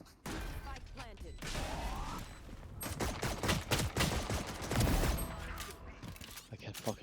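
Rapid gunfire in Valorant during a professional match crackles in quick bursts and sustained volleys, with mechanical clicks and a player's voice talking over the shooting.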